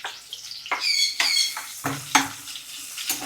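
Chopped onion goes into hot oil in a pan with garlic, chili and ginger for a peas mushroom masala, giving crackling sizzle and several sharp scraping stirs of a spoon against the pan at irregular intervals.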